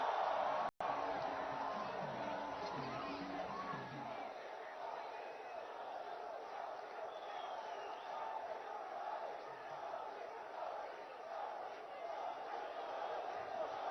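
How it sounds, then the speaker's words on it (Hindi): A large outdoor political rally crowd in Assam roars and cheers continuously at a distance. The sound is a dense, steady wash of voices with no single voice standing out, following a brief burst of nearer noise at the start. "आज तालियां गूंज रही है, जयकारा हो रहा है।"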